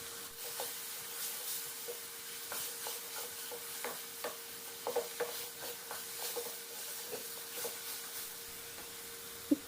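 Chopped green chillies and turmeric frying in a pan for chicken jalfrezi, a steady low sizzle with scattered stirring clicks and scrapes and one sharp knock near the end.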